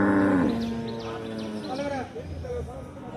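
Cattle at a bullock market in Melur, including cart bullocks, give a long low moo at the start that fades as someone talks over the bustle of the market.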